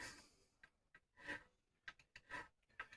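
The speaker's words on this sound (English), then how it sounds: "We're rounding these frets, and it's going to take a while." Bass guitar frets on a jazz bass being rounded by hand with a file, heard as quiet, separate rasping strokes in irregular bursts, some short and some longer, with no talking.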